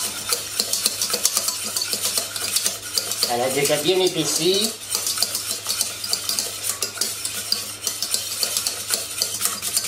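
A whisk scraping and clattering against a saucepan as béarnaise sauce thickens, in a fast continuous rhythm of metallic strokes close up. A voice briefly speaks over it partway through.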